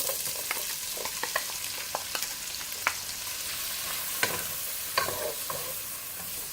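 Onions frying in melted butter for chicken mole, a steady sizzle with scattered clicks and scrapes of stirring, close and moderately loud, with no talking.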